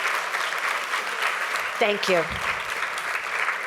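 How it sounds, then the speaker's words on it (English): An audience at a CSUN Bull Ring event applauds to honor a guest, a sustained wash of clapping with a voice briefly speaking over it midway. "Let's give him a great round of applause and thank him"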